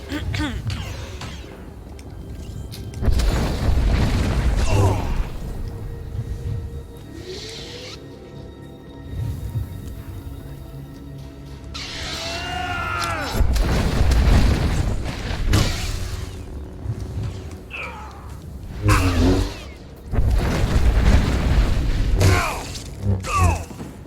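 Heavy booming blasts and thuds from a null cannon in the video game Star Wars: The Old Republic, several loud hits spread through the stretch, mixed with game effects and someone talking between them.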